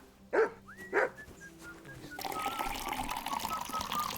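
Two sharp dog barks in Kingdom Come: Deliverance II, close and loud, followed by a busier game soundscape of murmuring ambience and a faint tonal chime.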